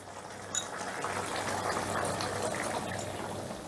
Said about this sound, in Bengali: এবার জলটা একটু ভালো করে মিশিয়ে নিয়ে আমি 2 মিনিটের মতন ফুটিয়ে নেব।